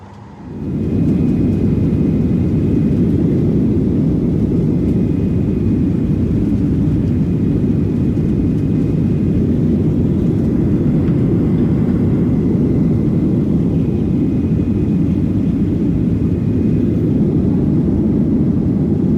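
An airplane engine runs at a continuous loud, close, droning roar that holds steady without voices, while someone waits to load the plane.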